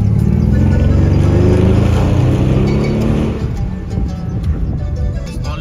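A car engine revs loudly and close with a turbo sound, a heavy droning roar that holds strong, then drops back and eases into lower, uneven rumbling.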